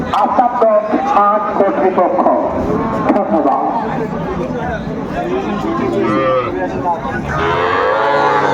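Young bulls and heifer calves low and moo at a busy cattle market in Gazipur, the drawn-out calls rising over constant crowd chatter and nearby people talking.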